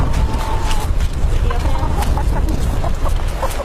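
Several chickens cluck nearby in short, irregular bursts over a steady outdoor background, with a voice talking underneath.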